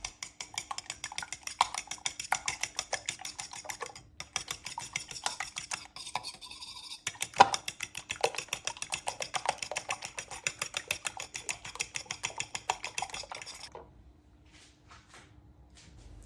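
Eggs beaten with salt and black pepper in a bowl, a fast, steady run of light clicking and tapping strokes that goes on for about fourteen seconds before stopping.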